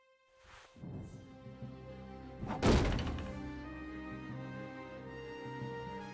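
A heavy old sandbag drops from theatre rigging and lands with one loud, dull thud in Broken Sword 3: The Sleeping Dragon. A soft earlier bump comes first, and a sustained musical backdrop plays throughout.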